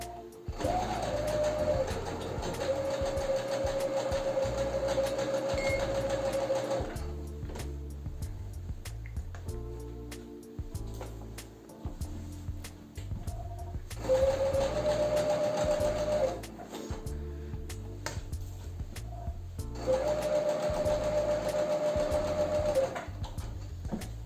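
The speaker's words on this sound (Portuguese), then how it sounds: "justo na marcação que eu fiz, vamos iniciar então a costura" A sewing machine stitches a seam on denim mom jeans, running in three long steady whirring passes with a rhythmic mechanical chatter, briefly stopping between them, close and loud with no talking.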